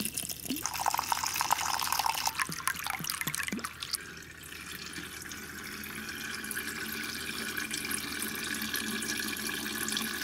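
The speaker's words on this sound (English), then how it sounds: "we're gonna filter it through the Brita and see what happens." Water trickles and splashes steadily into a Brita filter pitcher, close by and fairly quiet, with a few clinks early on before the flow settles into a continuous soft pour.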